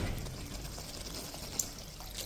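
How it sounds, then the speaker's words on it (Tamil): Water poured into a spinach and minced meat gravy cooking in a pan, a steady soft pouring and trickling that runs through the whole short moment with one small splash near the end. "இப்போ இந்த சா கிரேவி கூட கொஞ்சம் தண்ணி ஊற்றிடலாம்"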